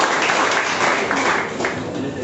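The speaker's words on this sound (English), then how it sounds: "please clap for her" Audience at a school debate applauding a speaker as she comes forward, a dense burst of many hands clapping continuously at close range.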